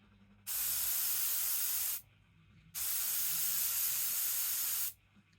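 A Fastrax airbrush sprays Fast Finish paint with the compressor pressure turned down, giving two steady, loud hissing bursts of about one and a half and two seconds, separated by a short quiet gap.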